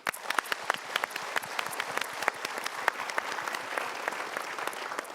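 A studio audience at the Mario Teguh Golden Ways talk show breaks into steady, dense applause from many hands, sustained evenly at moderate loudness throughout with scattered sharper claps standing out.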